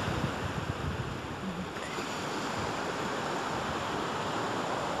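Sea waves roll onto the shore under a grey, cloudy sky, a broad continuous wash of surf with some wind buffeting the microphone, no voices over it.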